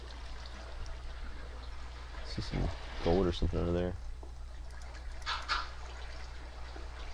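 Water flows steadily in Minecraft as a soft, continuous trickling hiss, faint under someone talking briefly in the middle.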